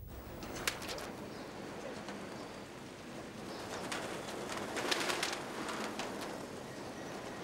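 Faint pigeons coo softly amid a steady patter like light rain, with occasional brief chirps and flutters scattered throughout.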